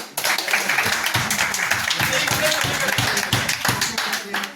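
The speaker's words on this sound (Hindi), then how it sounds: "मारो एक ताड़ी" Students clap together in a quick, steady burst of applause at a university meeting, close and lively, with voices mixed in.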